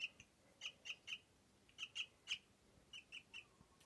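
A pet myna bird indoors gives faint, sharp chirps in quick clusters of two to four, separated by short pauses, with no talking.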